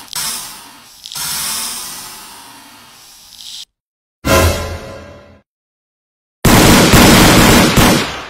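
Guards firing guns in an animated Squid Game parody deliver loud, sustained bursts of rapid gunfire, three separate volleys broken by abrupt silences, with no talking.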